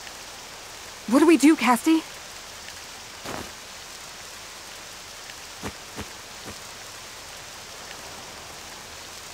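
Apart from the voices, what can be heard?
rain falling in Octopath Traveler II video game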